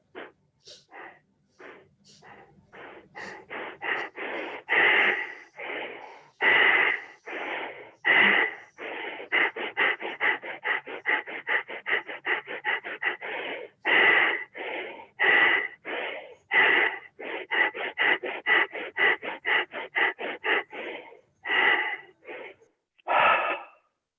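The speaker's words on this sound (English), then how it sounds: "we can hear each other breathe" A group breathes together over open microphones, making a long run of loud, rhythmic inhales and exhales. Many breaths come in quick succession, close and overlapping, with no talking.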